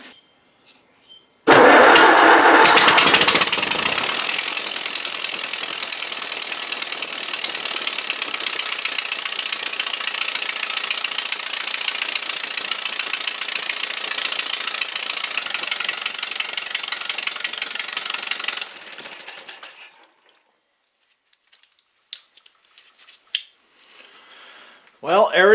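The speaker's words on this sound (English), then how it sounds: "It's still kind of popping though, that's why I was adjusting the valves." A WD engine runs with its valve cover off after a valve adjustment, starting abruptly and holding a steady, noisy clatter for about twenty seconds before shutting down, leaving faint handling noises.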